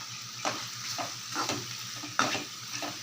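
A spoon scrapes and stirs masala with chilli powder around a pan in a mutton-style dish, regular strokes about every half second over a soft, constant sizzle; close and moderately quiet, with no talking.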